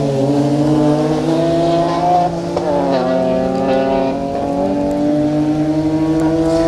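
BMW rally cars, among them a BMW Mini, pass one after another on a stage of the Colin Ellmore Memorial Rally in pouring rain. Loud, continuous engine roar with gear changes, pitch rising and falling as each car goes by close to the microphone.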